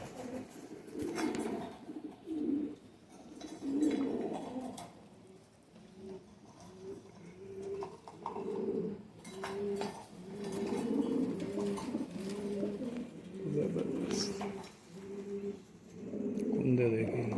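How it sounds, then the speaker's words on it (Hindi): Rampuri pigeons coo repeatedly in low, throaty rolling calls close by, with someone talking over them through much of the clip. "रामपुरी कबूतर हैं ये।"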